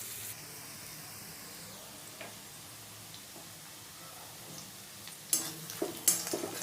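Onions fried until browned give a faint, steady sizzle in a pan, then beaten egg is poured in and the frying bursts into louder crackling and spattering.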